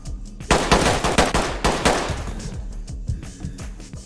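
Rapid automatic gunfire in a tactical shooter game, a dense burst of loud close shots followed by scattered, fainter single shots and echoes, with no talking.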